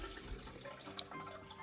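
Soaked chilies for mole chichilo negro strained in a kitchen, with water draining steadily into a sink or bowl, one brighter drip or splash partway through, fairly quiet and with no talk.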